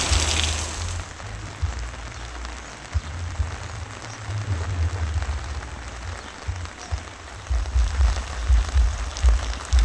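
Heavy rain falls steadily outdoors in a dense, continuous hiss with low rumbling, loud and even throughout, with no talking.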